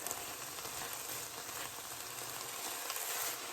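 Ingredients for chicken gnocchi soup sauté in a pot, giving a dense, continuous sizzle and crackle that stays even and close throughout, with no talking.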